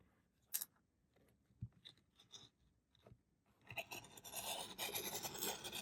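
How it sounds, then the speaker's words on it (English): A rotary cutter slicing through purple sparkle yarn fringe on a crocheted scarf, giving a dry, crunchy rasp that starts with a few sharp snips and builds into a steady, close scraping run over the last two seconds. "I'm just going to use a rotary cutter"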